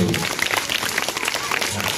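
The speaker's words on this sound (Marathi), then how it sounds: "या तिन्ही गटासाठी एकदा जोरदार टाळ्या होत" Loud, dense applause from an audience at a school quiz competition, steady clapping filling the whole moment for the three competing teams.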